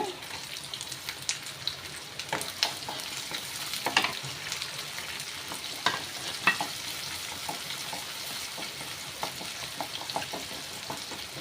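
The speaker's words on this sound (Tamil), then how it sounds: "பூண்டு கூட வதக்கி எடுத்துக்கோங்க" Chopped onion and garlic sautéing in a pan for spicy bitter gourd curry, a steady close sizzle with scattered clicks of stirring and scraping throughout.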